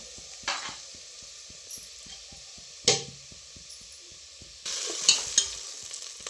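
Coconut fries in oil with cumin and mustard seeds in a pan, soft frying with light scraping strokes and a few louder stirring bursts, fairly close, no voices.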